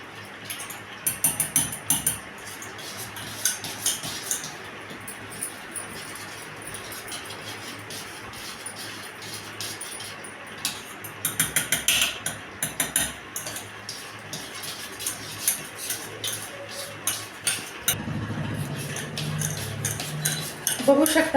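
A spoon mixing shrikhand, sweet strained yogurt, with powdered sugar in a bowl, giving soft repeated scraping and light clinks against the dish through a steady background, with brief voices at moments.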